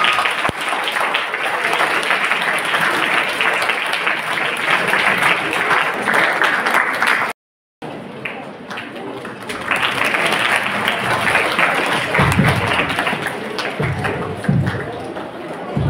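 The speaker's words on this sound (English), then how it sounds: "let's give a big round of applause" An audience applauds at a formal welcome event, sustained dense clapping that fills the scene, briefly cut off midway, then resumes with a voice calling out over it.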